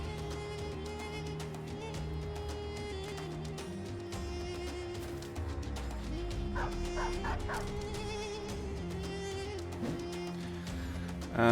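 Dog barks in the medieval tactics game Battle Brothers, several short yips around the middle, mixed into a dense, continuous game music and ambient bed.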